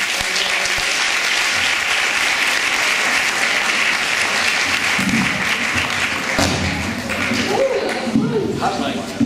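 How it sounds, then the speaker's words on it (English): A live audience applauds for two presenters, giving a loud, continuous wash of clapping that lasts the whole time with a few scattered thuds. "Let's give them a round of applause."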